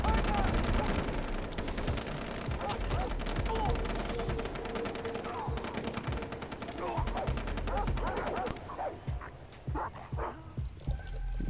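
Shotgun blasts and bursts of SMG fire in the video game Far Cry 3, loud and close, scattered shots crowding the first eight seconds before thinning to a few sparse reports.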